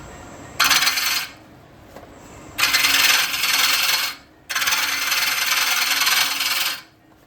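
An Ashley Harwood 40/40 bowl gouge, freshly sharpened, cutting wood on a lathe, heard as three bursts of loud, close, hissing shearing separated by brief pauses, with the lathe hum underneath.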